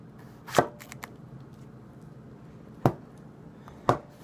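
Tanaka Ginsan gyuto knife slicing a tomato on a cutting board, three distinct close chopping knocks spaced apart with a few faint ticks between, no talking.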